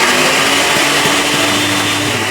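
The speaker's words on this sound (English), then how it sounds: "So I'm going to attempt to blitz this up in the spice grinder" A spice grinder blitzes roasted capsicum, shallots and garlic with a steady, loud high-pitched whir that runs without pause from start to finish.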